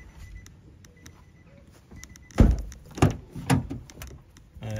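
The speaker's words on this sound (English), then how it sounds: "Let's pop the bonnet," The bonnet of a 2019 Nissan Navara 2.3 dCi N-Guard pickup is opened: a few close metallic thunks and clunks from the latch and the lid, each sharp and brief, after a quiet stretch.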